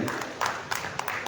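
A stage audience claps to welcome two guests, the hand claps coming as a scattered, fairly light patter of distinct beats rather than a full roar.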